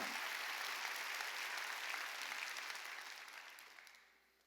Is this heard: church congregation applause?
yes